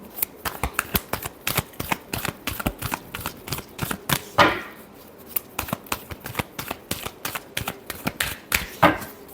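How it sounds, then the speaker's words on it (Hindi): A deck of tarot cards being shuffled by hand during a weekly Aries reading, a fast close run of crisp riffling slaps and flicks with a couple of louder bursts, no talking. "Last shuffle."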